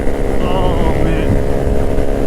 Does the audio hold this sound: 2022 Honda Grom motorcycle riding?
yes